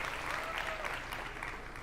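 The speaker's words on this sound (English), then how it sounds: "That's a lot of clapping for no gameplay whatsoever." Sustained applause from a large audience at an EA E3 press presentation, a steady dense wash of clapping heard alone with no talking.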